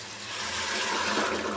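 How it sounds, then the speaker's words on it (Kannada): Hot water pouring into a pot holding coriander leaves, coconut and lemon juice for a quick lazy rice, a steady continuous splashing rush that swells slightly and runs the whole time, close and alone. "ನೀರು ಹಾಕ್ತಾಯಿದ್ದೀನಿ ನೋಡಿ,"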